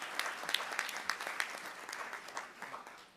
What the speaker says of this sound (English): A round of applause for all of our wonderful East Meadow High School students.